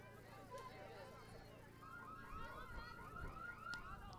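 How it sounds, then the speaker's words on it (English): A distant car alarm at a college softball game between Carson-Newman and Barton warbles in a repeating electronic pattern, faint beneath ambient ballpark noise and a low steady hum. "another car alarm sound effect."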